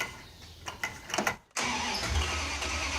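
A V8 engine in a Dodge Duster cranks with a few rhythmic starter churns, pauses briefly, then catches and settles into a loud, steady rumbling idle close by.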